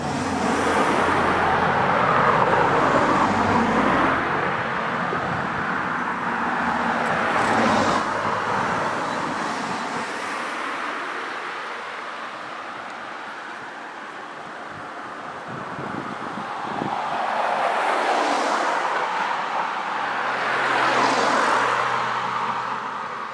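A car with its right signal on creeps slowly out onto a road, its engine and tyre noise swelling and fading steadily under heavy wind buffeting, with no talk.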